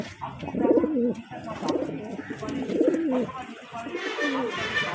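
Domestic pigeons, a male and female pair, coo in repeated soft throaty phrases close by, with a steady hiss of background noise and some faint chirps.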